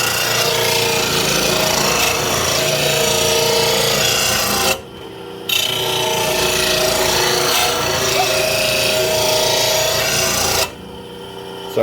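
A bench grinder sharpens a lawn mower blade during Simplicity Courier mower maintenance, giving a loud, steady rasping grind that runs for several seconds, breaks off briefly, then resumes before stopping again.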